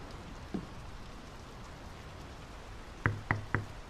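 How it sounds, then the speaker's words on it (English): Steady rain pours down in the video game Draugen, set in 1920s Norway, a broad even hiss across the whole stretch, with a soft knock early on and three sharp knocks near the end over the downpour. "The rain's picking up."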